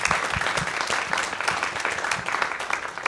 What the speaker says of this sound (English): stand up so that we can give you an applause